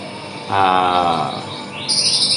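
A white-rumped shama sings a bright, rich phrase of rapid whistled notes, then shifts into a higher, sharper trill, loud and close, with no voices.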